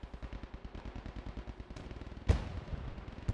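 Gunfire in the video game Post Scriptum, a rapid rhythmic stream of machine-gun shots at moderate distance, followed by a heavier blast around the midpoint and another sharp report at the end, with no talk.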